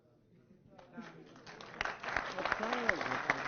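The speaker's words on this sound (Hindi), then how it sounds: "अगर आप तक पहुंचे तो मुझ तक भी आपकी तालियां आनी चाहिए।" Audience applause at a political speech in Hindi swells from a quiet start into steady, dense clapping, with voices calling out over it near the end.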